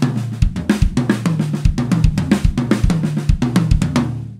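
A drum fill played with accents and ghost notes at nearly the same volume, giving a steady, even run of close, loud snare and tom hits with little dynamic contrast, heard alone and ringing out at the end.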